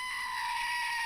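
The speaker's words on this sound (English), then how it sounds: "Andy, can I get another goat scream, please?" Screaming goat sound effect played on a podcast, one sustained loud shrill bleating scream, close and alone with no talk over it.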